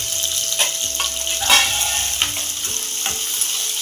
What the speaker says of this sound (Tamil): இந்த வெங்காயமும் பச்சை மிளகாய் அதெல்லாம் வந்து பொன்னிறமாக ஆகிறதுக்கு வதக்கிக்கலாம்